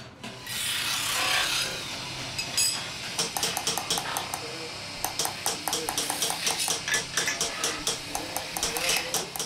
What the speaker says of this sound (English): This is a part of the traditional bazaar of Isfahan.